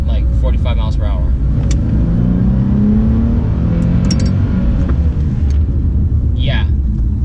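Nissan 370Z sports package car accelerates hard in second gear up to around 45 mph, a loud rising engine drone inside the cabin, then slows under braking, with a voice speaking briefly over it.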